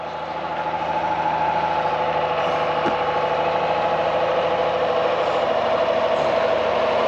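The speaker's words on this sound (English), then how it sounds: "Hey, watch that water truck." A water truck's engine idles steadily nearby, a continuous mid-pitched diesel drone with no voices over it.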